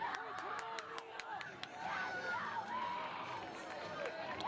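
Spectators cheer steadily at a girls' 4x1 mile relay championship on an outdoor track, a broad, distant crowd roar with scattered whoops and shouts throughout.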